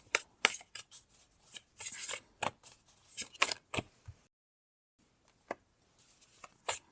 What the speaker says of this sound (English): So let me pull some tarot cards with that.